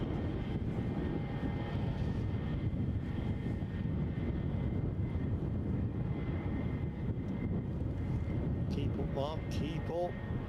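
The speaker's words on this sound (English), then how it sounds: "British Airways sprinting away from me. Nice rolling start." A British Airways airliner takes off at Edinburgh Airport with a rolling start, its steady, heavy low engine rumble close and continuous, with a brief voice near the end.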